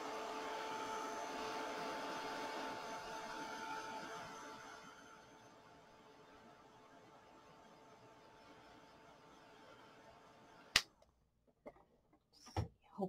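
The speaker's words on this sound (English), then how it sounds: "I'm going to just get my heat gun out really quick and then just dry" A heat gun blowing steadily while drying paint, a loud whooshing hum that fades to a quieter drone before cutting off, followed by a few sharp clicks and knocks.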